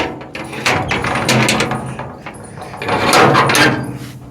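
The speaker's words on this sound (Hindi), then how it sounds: "दरवाज़ा खोल दिया मैंने" A door being opened in a home bedroom, giving a couple of loud wooden knocks and rattles, with a louder burst of handling noise near the end.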